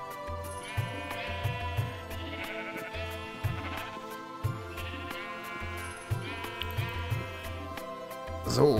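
Minecraft sheep bleat repeatedly in short wavering calls, several overlapping at close range over a faint music bed, with a small clatter at the end.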